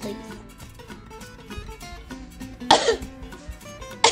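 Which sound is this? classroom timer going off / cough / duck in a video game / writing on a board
cough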